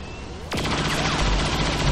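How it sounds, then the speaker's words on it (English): A chain shot fired at a Sectopod in XCOM 2, a sharp sudden blast followed by a dense rattling volley of gunfire that keeps sounding loudly to the end. "The old chain shot on the sectopod trick."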